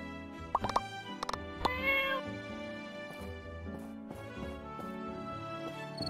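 Fat cat in the video game My Time at Portia gives several short meows and plopping effects over a continuous background music track.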